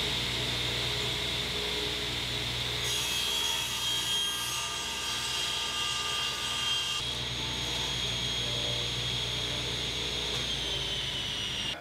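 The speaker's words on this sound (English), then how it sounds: "So I'm going to be cutting triangular block out of the back of this" A table saw cuts a triangular wooden block from the back of a miter sled, giving a steady high-pitched whine with a shift in pitch midway as the blade engages the wood, no talking.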